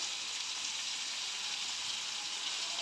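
A chili and cumin paste frying in a pan, a faint, even, steady sizzle throughout with no other sounds.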